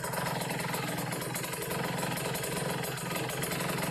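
Carbureted motorcycle engine running steadily after a mixture screw adjustment, a close, loud, even idle with a rapid rhythmic pulse and no misfires, filling the whole clip without talk.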